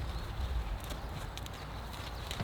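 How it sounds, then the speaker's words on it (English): A trained horse walks with a steady clip-clop of hooves, fairly faint beneath a constant low background rumble. "That's my trained horse right there."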